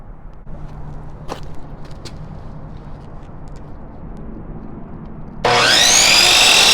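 Wood being cut for a neon bombarding setup frame: quiet workshop ambience with a couple of light knocks, then a loud, close saw abruptly starts cutting and roars to the end.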